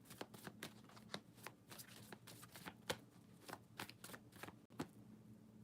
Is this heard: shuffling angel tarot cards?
yes